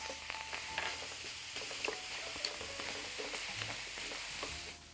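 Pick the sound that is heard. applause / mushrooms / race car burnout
mushrooms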